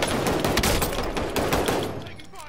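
Dense rapid automatic gunfire from the Warzone video game fills the whole stretch, loud and continuous, with a voice briefly underneath.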